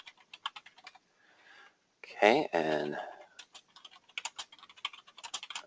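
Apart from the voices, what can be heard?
typing on a computer keyboard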